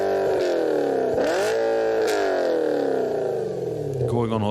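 A manual Audi RS4 B7 with its 4.2 V8 revs hard, pitch swooping up and down through several sharp blips, loud and close, with a raspy mechanical edge and a brief clatter near the end.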